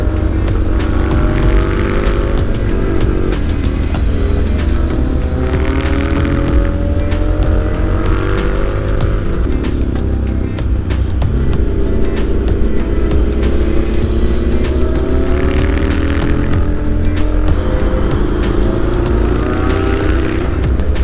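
A 2015 Triumph Speed Triple R motorcycle being ridden, its engine droning loud and close with repeated rises and falls in pitch as it accelerates and eases off, wind rush throughout.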